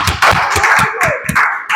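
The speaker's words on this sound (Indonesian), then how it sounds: "Terima kasih untuk kelompoknya Ping, tepuk tangan, silakan duduk kembali." Classroom applause for a group of students after they read their poem, a short burst of loud, close, uneven clapping from several pairs of hands.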